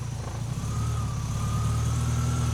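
A car engine runs steadily at a low, even hum with revs picked up, close by, with a faint high whine above it and no talking.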